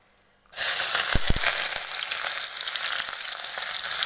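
Onion, green chili and garlic drop into hot mustard oil, setting off a sudden loud sizzle that keeps hissing steadily after a few stirring knocks.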